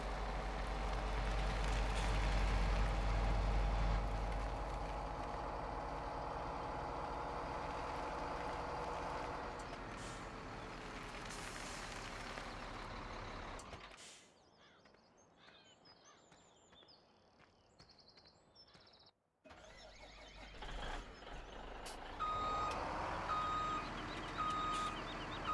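Trucks idle and reverse on a farm in Farming Simulator 17, a steady engine rumble with repeated reversing beeps, then a quieter stretch before the engines and beeping return.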